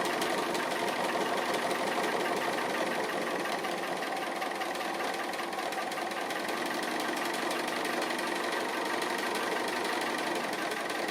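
A sewing machine stitching around the edges of a fused fabric applique, running steadily and continuously with a dense, even mechanical whir close by and no voices.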